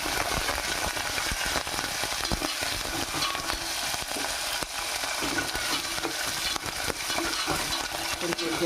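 Green chillies and curry leaves frying in hot oil for Varalakshmi Vratam prasadam, a continuous close crackling sizzle with occasional stirring clicks, no talking.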